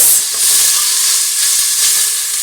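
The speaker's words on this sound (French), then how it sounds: "je fais revenir mes oignons et mon ail jusqu'à ce que ça soit bien ramolli" Onions and garlic sauté in a pan for Moroccan lentils, making a loud, continuous, close sizzling hiss that holds steady throughout.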